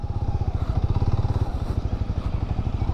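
Honda CB300R motorcycle engine idling low at around 1200–1300 rpm, a steady, close, rhythmic low thump with even pulses throughout.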